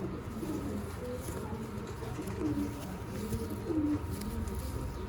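Teddy pigeons coo softly, with a few low, rolling calls over a steady, noisy background of other birds and ambient sound.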